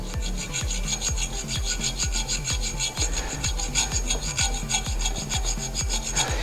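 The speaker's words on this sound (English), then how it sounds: "Just slightly file those off." A hand file rasps steadily across a go-kart rear axle in rapid, regular back-and-forth strokes, close and continuous with no talk.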